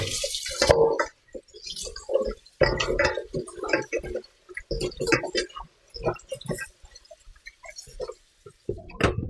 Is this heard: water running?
yes